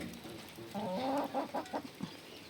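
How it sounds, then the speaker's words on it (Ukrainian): Chickens cluck and squawk in agitated bursts nearby, a flurry of excited fowl calls rising over a low background hum. "Розполохала всіх курей."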